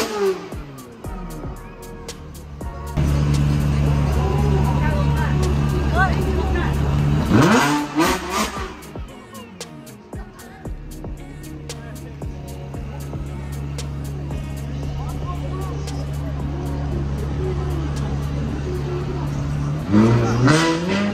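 A Ferrari and a Nissan R34 on the streets of Japan near Shibuya: loud, sustained engine roar with sharp rising revs partway through and again at the end, while people talk nearby.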